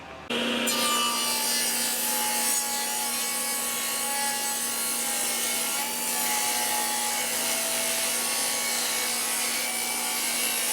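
A power saw cuts 2x4 wood blocks for a drum frame, a steady loud whining hum with a continuous rasping cut, close and sustained after a sharp start.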